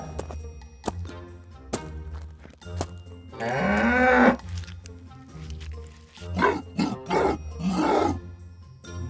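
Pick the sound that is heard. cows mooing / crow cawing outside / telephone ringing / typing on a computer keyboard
cows mooing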